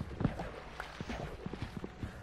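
A horse's hooves in a survival video game, a series of soft, irregular clip-clop steps at close range over a quiet background, with no talk.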